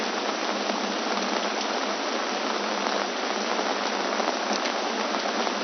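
Steady, dense rainfall patters continuously on a surface, an even hiss with no voices.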